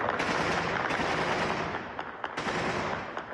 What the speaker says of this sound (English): I discovered that gunfire is an almost daily occurrence in the Afghan capital.